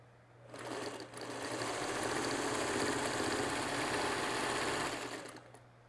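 A sewing machine runs in a fast, steady whir for several seconds, stitching a mini-charm quilting project until the bobbin thread runs out, then stops.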